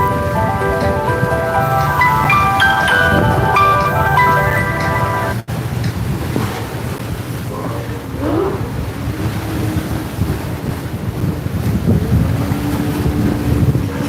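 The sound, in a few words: racing powerboat engine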